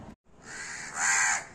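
A crow gives a harsh, nasal caw after a brief click, quickly followed by a second louder drawn-out caw, close and clear.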